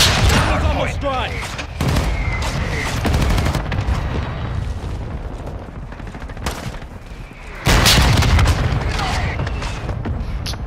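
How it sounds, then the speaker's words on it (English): Mortar strike explosions in Call of Duty: Modern Warfare II, loud booms and rapid bursts of gunfire crashing repeatedly, with a heavy blast near the end and players talking over the combat. "Mortar support incoming."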